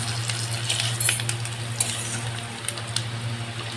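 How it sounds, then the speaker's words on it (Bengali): Onion masala with a little chili powder fries in a pan for a fish dish, giving a soft, continuous close sizzle with light stirring and scraping over a low steady hum. "মশলাটাকে কষিয়ে নেব।"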